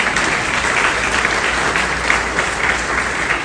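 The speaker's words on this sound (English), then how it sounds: "So you have to clap for your own self." An audience at a spiritual discourse on Bhaja Govindam breaks into continuous applause, a dense, loud wash of many hands clapping steadily throughout with no talking.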